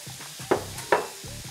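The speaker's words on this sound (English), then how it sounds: "Try to get most of it in the pan rather than out of the pan. Just give it a good mix" Jackfruit and a spice mixture are stirred in a frying pan, with two sharp scraping knocks of a utensil against the pan over a soft sizzle in a brief moment.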